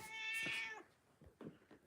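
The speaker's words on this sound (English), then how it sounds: "Oh, and the cats are running." A house cat lets out one loud, drawn-out meow close by, followed by quieter scuffling and faint thumps as cats run around indoors.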